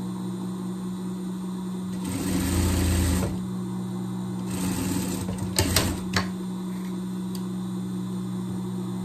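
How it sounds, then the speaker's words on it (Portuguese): A sewing machine stitches the underarm seam of a jester costume for a pet, where ribbed knit meets ribbed knit, in two short runs of quick mechanical chatter, fairly faint against a steady background hum. "Mesma coisa do outro lado, costura debaixo do braço, costura debaixo do braço."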